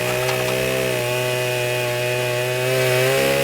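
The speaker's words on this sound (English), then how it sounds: "we grab the chainsaw and get ready for one hell of a confrontation" A chainsaw in the video game Manhunt drones at a steady, loud pitch with a strong buzzing whine, holding evenly and shifting only slightly in tone, with no voices over it.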